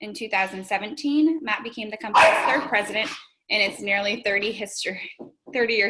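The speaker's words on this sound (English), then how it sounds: "I'm sorry about the dogs barking." Dogs bark in the background of a home work-from-home webinar, with intermittent yips and barks partly masked by a person speaking steadily in the foreground.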